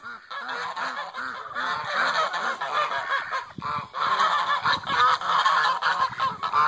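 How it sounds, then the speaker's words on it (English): Chickens squawk and cluck loudly close by at a barn, a dense run of overlapping calls lasting several seconds, with no talking. "We got chickens over there."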